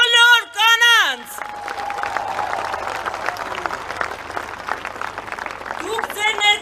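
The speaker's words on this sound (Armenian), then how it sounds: "ուզում եմ բարձր ծափարենք մեր բոլոր կանանց" An audience in a hall applauds the women, a dense burst of clapping that swells and carries on for several seconds, bracketed by a woman's amplified speech at the start and end.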